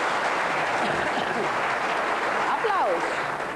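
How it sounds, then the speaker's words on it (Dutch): Studio audience clapping on a Dutch television guessing game show, a dense steady burst of applause lasting a few seconds with a voice briefly speaking over it. "Applaus."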